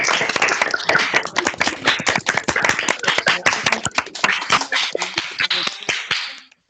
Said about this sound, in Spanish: Este aplauso a la embajadora.